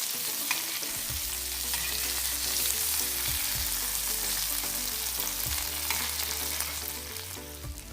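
Spicy chicken pieces fry on a hot tava with a steady, close, continuous sizzle, broken by occasional scraping stirs; no one speaks.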